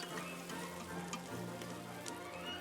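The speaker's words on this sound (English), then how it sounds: "Sauté the onion until it is caramelized." Chopped onion sautéing in vegetable oil in an Instant Pot for beef goulash, giving a steady, even sizzle and crackle with a faint low hum beneath and no voices.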